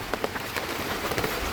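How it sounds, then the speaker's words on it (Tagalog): Heavy rain patters steadily on a surface with scattered drops tapping through a constant wash of noise, fairly quiet and without voices. "lumakas na yung ulan"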